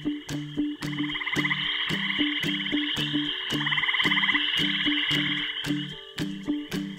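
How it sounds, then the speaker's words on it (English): Frogs croak in a steady chorus: repeated short low calls pulse in a regular rhythm over a continuous high trilling drone, close and fairly loud with no voices. "This type of animal is called an amphibian."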